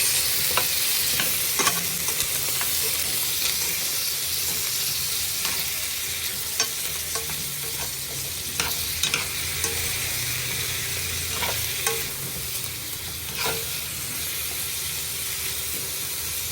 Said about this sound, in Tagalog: At ilagay natin yung ating patatas.